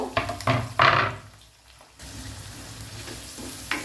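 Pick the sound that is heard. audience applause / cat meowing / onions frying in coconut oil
onions frying in coconut oil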